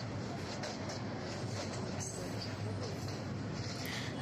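Steady broadband rumble of a passenger train running between Khulna and Dhaka, a continuous rolling drone with faint rattles, heard from inside the carriage with no clear talk.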